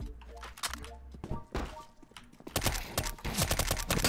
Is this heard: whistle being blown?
no